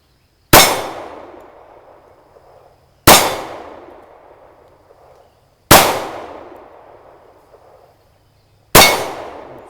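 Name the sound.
Glock 36 pistol gunshots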